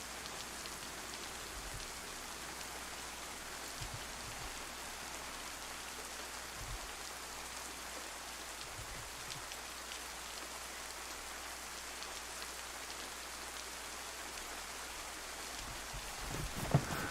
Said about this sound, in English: It's hard to tell if that's rain noise